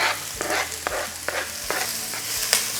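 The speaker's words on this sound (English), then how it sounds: "I'm going to wait for the oil to get a little bit hot. Throw in the onions." Onions hit hot olive oil in a pan and sizzle steadily, with a few sharp crackles and stirring scrapes over the constant frying hiss, close and moderately loud.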